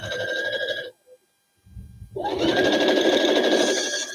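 A sewing machine stitches quilt fabric in fast, steady bursts, running loud, pausing for about a second with a soft click, then starting up again and humming continuously to the end.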